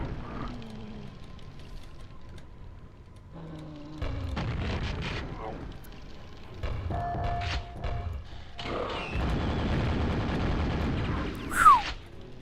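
Grenades explode in Quake, several heavy booms and thuds arriving in separate bursts between quieter stretches, with someone talking over parts of it.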